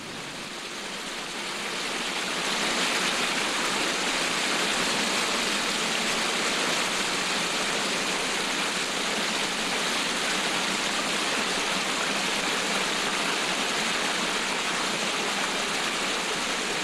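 A river runs steadily over its riverbed, a dense, continuous rush of water that swells over the first two seconds and then holds even and fairly close, with no voices.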